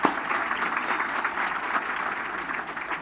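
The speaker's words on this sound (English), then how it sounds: "give them a round of applause" An audience at a city's State of the City address applauds with steady, dense clapping that stays even and sustained from start to finish, with no voices on top.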